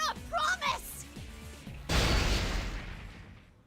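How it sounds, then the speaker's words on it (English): A small explosion-like rupturing burst from the Persona 4 Arena fighting game, loud and sudden, decaying into a long rumbling noise tail over a couple of seconds after a stretch of game voice and music. "a rupturing sound like a small explosion shaked the entire room"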